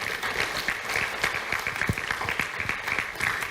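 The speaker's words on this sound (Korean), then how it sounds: "박수 한번 쳐주세요" An audience applauds, a dense spatter of many hands clapping at once, steady and moderately loud for a few seconds.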